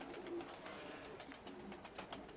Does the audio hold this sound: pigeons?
yes